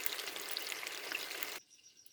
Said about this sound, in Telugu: బాగా ఫ్రై చేసుకుందాం.